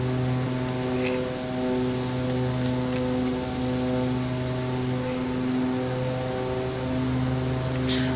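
Twin Otter DHC-6 twin turboprop in the X-Plane 11 flight simulator, flying over Hawaii: a steady, loud engine drone with layered propeller hum, unbroken and alone for the whole stretch.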